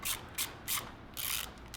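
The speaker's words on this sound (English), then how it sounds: "there's actually a 10 millimeter, this bolt right here. Gonna loosen this up real quick." Ratchet clicking in quick bursts while a 10 mm bolt is loosened on a Nissan S13 240SX, four or five short close rattling runs separated by brief pauses, no talking.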